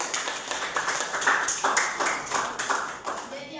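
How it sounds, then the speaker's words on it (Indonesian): Students in a classroom clap together in a loud, rhythmic run of hand claps, with some voices talking and calling out underneath. "Berikan tepuk tangan dulu."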